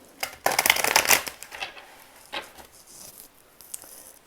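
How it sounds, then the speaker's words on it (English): A Tarot of a Moon Garden deck being shuffled by hand, a dense riffling burst followed by softer scattered flicks and taps of the cards, close and moderately loud. "I need to shuffle."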